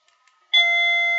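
A doorbell triggered by a transmitted radio signal sounds a single chime tone after a brief quiet moment, ringing clearly and sustaining alone.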